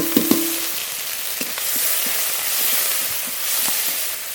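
Spice paste of ginger, green chili, dried red chili, cumin and panch phoron, with salt and turmeric, frying in a pan gives a steady sizzling hiss, opened by a couple of sharp utensil clinks.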